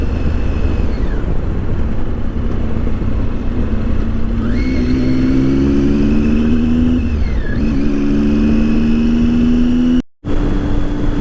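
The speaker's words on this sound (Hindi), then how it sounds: "हार्ली डेविडसन की ग्लाइड." A Harley-Davidson Glide motorcycle engine drones steadily in steady riding, its deep low rumble rising and falling in pitch as it shifts and pulls on through one continuous near, loud pass, with a brief drop-out near the end.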